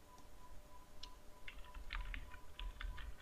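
Keys on a computer keyboard tap in short irregular bursts, faint and close over a low background hum, with no voices.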